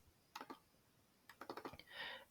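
Quiet clicks on a computer keyboard tap out an Excel formula, two quick keystrokes followed by a rapid run of several more, ending in a softer rustle.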